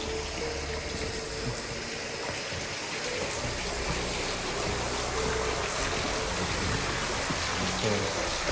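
Continuous rushing, splashing water pouring from the seven spouts of a sacred spring well at a bathing place, a steady dense wash of sound up close with no pauses.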